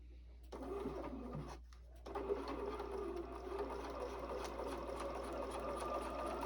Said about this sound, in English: I'm going to top stitch right down this edge here.